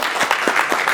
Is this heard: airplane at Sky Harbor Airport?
no